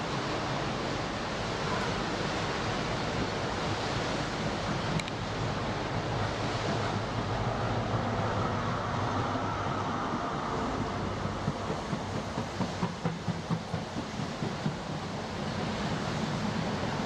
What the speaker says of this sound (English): These were some particularly powerful waves